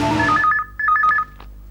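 Telephone ringing in a tense crime drama scene: two bursts of a bright warbling electronic ring, about half a second each, separated by a short gap, loud and close over a quiet low background, with no talk.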